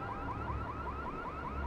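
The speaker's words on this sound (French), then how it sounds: "Activer l'alarme, il va se présenter ici." Car alarm set off in the Watch Dogs video game, a steady repeating electronic whoop cycling rapidly over a low background rumble, loud and continuous throughout.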